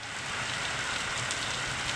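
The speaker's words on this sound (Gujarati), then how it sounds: "હળવા અને ભારે વરસાદી ઝાપટાથી પવન પણ સાથે સાથે જોવા મળ્યો" Steady rain showers with wind in the eastern Ghoghamba area of Panchmahal, a dense continuous hiss of drops on surfaces throughout, moderately loud with no voices.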